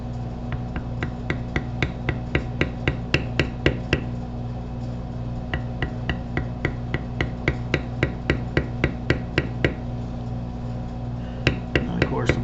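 A steel beveler is struck repeatedly with a mallet while tooling a leather backpack flap, a steady series of sharp, close taps that pause briefly and then resume, over a constant low hum.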